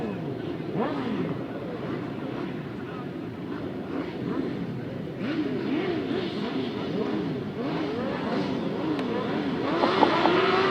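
Grasstrack sidecar engines rev together at the start of a race, a loud pack of rising and falling engine whines that swell toward the end, with a commentator talking over them.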